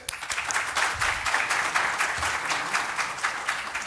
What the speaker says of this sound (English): please applaud her